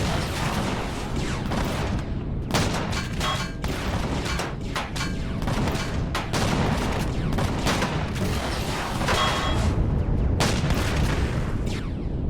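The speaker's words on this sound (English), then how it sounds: "Sentry guns." Sentry guns in Empyrion Galactic Survival fire a dense, continuous barrage of booming shots with irregular rhythm, loud and sustained for the whole stretch, with no talking over it.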